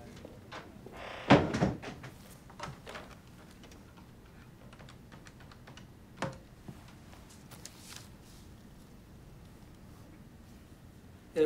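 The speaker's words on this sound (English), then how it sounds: "And shut the door." A door is shut in a thriller film scene, giving a sharp knock near the start, followed by quieter scattered clicks and thumps against a hushed room background.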